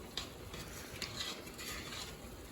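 A spoon stirs sausage and vegetable keto soup in a pot, a soft continuous churning with faint scrapes and a few light clinks.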